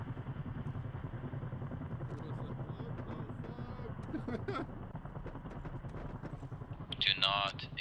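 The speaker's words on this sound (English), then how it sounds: "Do not engage the chopper with your guns, or it's landing." A military helicopter passes overhead as a steady, loud rotor drone during an ambush exercise. It continues through the whole stretch, with brief voices and a sharp clatter near the end.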